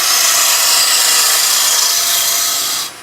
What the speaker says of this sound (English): what I'm doing here is a skew cut with the bowl gouge